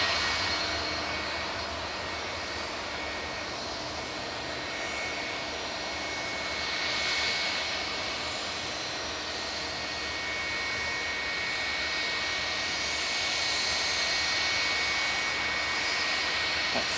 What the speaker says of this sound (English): That's TUI in the background, just landing, coming in from Corfu, flight 2577, 737 MAX 8